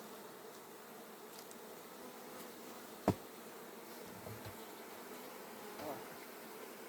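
Honeybees hum softly around an open beehive as it is prepared for winter, a faint, steady drone with one sharp click partway through.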